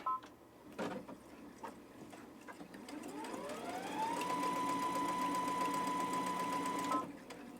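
A Baby Lock sewing machine sews a straight stitch. Its motor whirs up to a steady, loud, even hum that holds for about three seconds and then stops, with a few light handling taps before it starts.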